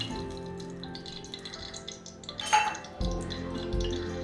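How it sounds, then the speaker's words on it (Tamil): Oil and ghee mixture poured into a hot pressure cooker while making chicken dum biryani, a soft steady stream and faint kitchen clatter, then a brief metallic clink and a louder sizzle rising near the end. "எண்ணெயும் நெய்யும் மிக்ஸ் பண்ணி வச்சதை ஊற்றிடலாம்"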